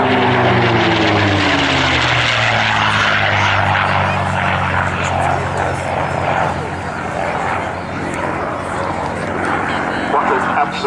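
A P-51 Mustang with a Packard Merlin engine making an airshow flypast, a loud droning roar whose pitch sweeps downward as it passes close, with someone commentating over it.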